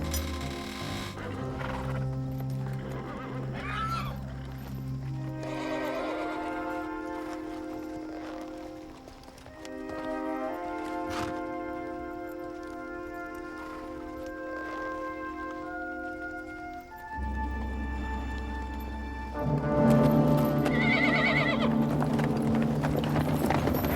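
Australian light horse on the move, with steady rhythmic hoofbeats, loud neighs and whinnies, and a dense, shifting layer of hooves and tack over about twenty seconds.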